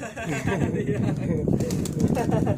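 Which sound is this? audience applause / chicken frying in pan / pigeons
pigeons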